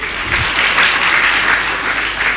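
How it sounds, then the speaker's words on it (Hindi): An audience claps together at a religious discourse, a dense, even burst of applause heard close and loud for a couple of seconds. "एक बार तालियां तो बजा दो।"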